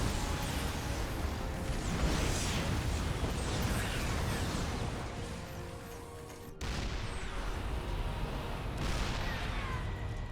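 Tank fire in a StarCraft Terran-versus-Terran battle rumbles as dense overlapping explosions and artillery-like booms, continuous and fairly loud, with a sharp crack near the end.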